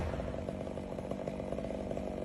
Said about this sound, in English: In his hand, he holds a roaring chainsaw. As the blade begins to cut deep into the thick wood